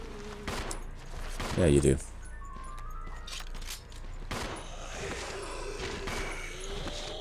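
Rapid gunfire at zombies in Resident Evil 0 HD Remaster, a burst of loud shots followed by scattered further shots and game effects, with a voice speaking briefly over the action.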